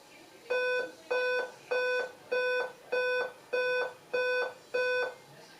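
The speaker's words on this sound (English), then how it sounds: "when I press the power button, and again, I got 8 beeps" On power-up an Alienware M17x R3 laptop sounds eight steady, evenly spaced electronic error beeps, each a clear sustained tone, loud against a quiet room.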